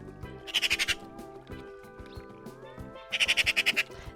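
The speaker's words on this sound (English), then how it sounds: "That is a very loud bird" A loud bird gives two bursts of rapid, repeated shrill calls, six or seven pulses each, early on and again near the end, over soft background music.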